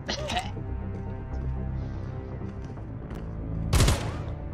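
Gunfire in a Call of Duty match: a loud, sharp burst of shots near the end stands out over a low, busy game-sound backdrop with faint music-like tones.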